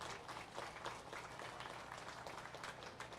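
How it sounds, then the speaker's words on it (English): Crowd applause at a market goat show, a steady dense clatter of clapping filling the arena for several seconds with a faint voice underneath. "Let's give them another round of applause as we get started here."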